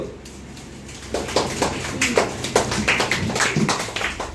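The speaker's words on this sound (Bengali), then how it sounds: "জোরে হাততালি দাও।" Students applauding at a school prize-giving during a quiz and word-game programme, a dense run of claps that starts about a second in and carries on steadily, fairly loud, with some voices mixed in.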